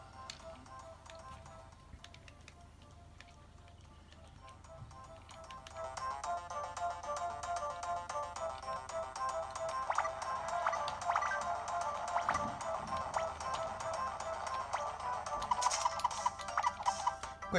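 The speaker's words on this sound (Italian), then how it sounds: "vi faccio sentire un attimo la musica" Chiptune-style game music from Wonder Boy Returns Remix on Nintendo Switch plays alone, quiet at first and growing fuller after a few seconds, with busy, bright ticking notes and occasional sharper effect sounds.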